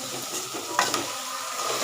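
Chopped beetroot with salt is stirred in a pan, giving a soft continuous sizzle with scraping swishes of the spoon and one brief clink, close and steady without speech.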